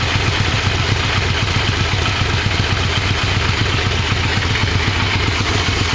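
A Yamaha Vmax motorcycle engine idles after a carburetor sync, a loud, steady, close rumble with an even, rapid pulsing clatter that runs unbroken throughout.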